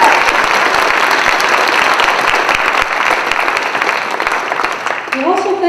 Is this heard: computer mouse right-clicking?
no